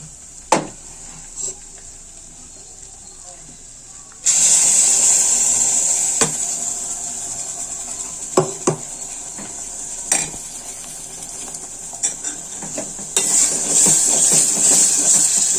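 Ground masala goes into a pot of village-style tomato sambar, followed by a loud steady sizzle and repeated metal spoon scrapes and clanks against the pot as it is stirred, close up with no talking.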